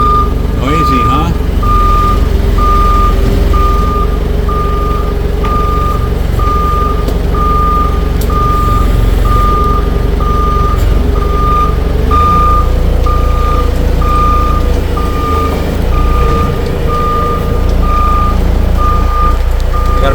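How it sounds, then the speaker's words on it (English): A black truck is backed and moved on a building site while a loud reversing alarm beeps in a steady, evenly spaced series over a constant diesel engine rumble, close by and continuous. "I got to move the black truck out of the way"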